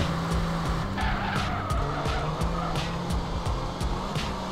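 A car in a racing video game drives hard and skids repeatedly, with loud tire squeals in bursts over a steady engine roar, no talk.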